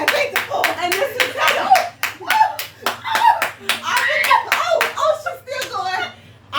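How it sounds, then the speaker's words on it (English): A group claps in bursts of sharp, close handclaps, with a few pauses between rounds, over a low steady hum and occasional voices in the background. "We all clap it."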